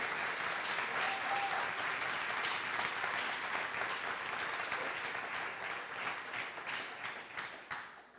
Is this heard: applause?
yes